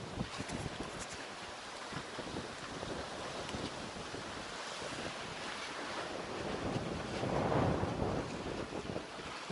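Strong 30-knot wind buffets the microphone aboard a sailing yacht crossing between Greek islands, with waves rushing and surging along the hull in a dense continuous roar that swells louder near the end, no voices.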